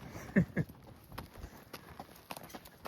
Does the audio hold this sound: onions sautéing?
no